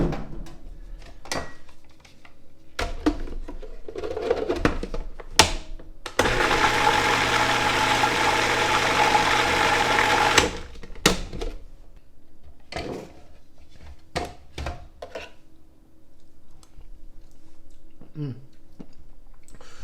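A blender whirs for several seconds, blitzing rouille with peppery Spanish olive oil, salt and pepper, a loud steady motor drone framed by clunks and handling knocks before and after.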